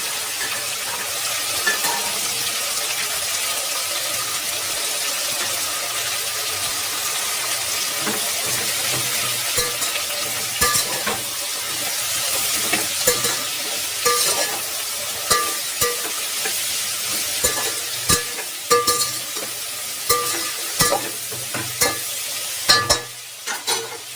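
Potatoes and peas with ginger garlic paste cook in a pan for veg biryani, giving a steady loud sizzle with occasional clinks and stirring taps toward the end.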